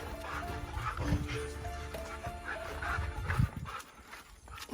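Horses at a cafe in Narita: a nearby scuffle of hooves and shifting movement, with people talking faintly in the background.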